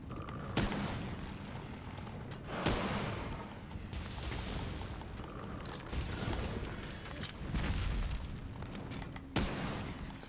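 Game audio of the Nergigante monster smashing through a wall in Monster Hunter World, with several heavy booming crashes and impacts at intervals over a dense, continuous layer of battle noise.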